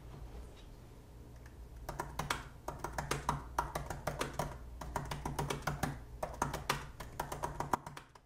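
Rapid typing on an Apple Magic Keyboard 2 in space grey, a dense run of close, crisp low-travel key clicks in an irregular patter over a faint steady hum, with no talking.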